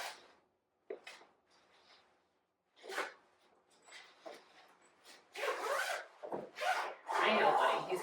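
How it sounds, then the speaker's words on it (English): A zipper closes a bag of dog bedding in a series of short rasping pulls, soft and close, getting louder and more continuous toward the end. "I am going to zip it back up just so that it doesn't get so tangled in itself."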